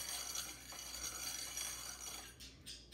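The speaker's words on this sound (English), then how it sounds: "Stir it up for me." Jelly beans stirred in a container: faint, soft clinking and rattling at a distance, low and continuous over a quiet background with no talking.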